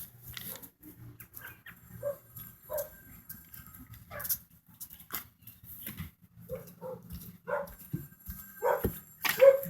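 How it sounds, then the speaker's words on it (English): Several dogs bark from around neighboring houses, sending out irregular bursts of barks and yaps, some near and some farther off, with brief whimpers between quiet gaps. "And our dogs are barking."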